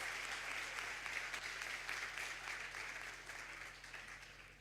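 Audience applause at a morning psychiatry lecture on obsessive-compulsive disorder, a dense, steady wash of many hands clapping that fades gradually toward the end.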